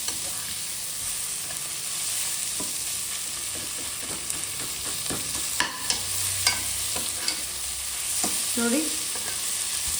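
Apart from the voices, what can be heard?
onions and tomatoes frying in a pan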